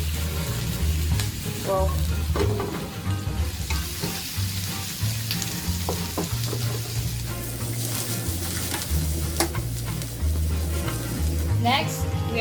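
Spicy noodles being stir-fried in a pan at home, with a steady sizzle and frying crackle running throughout over a low background hum, occasional utensil scrapes, and a brief spoken word near the start.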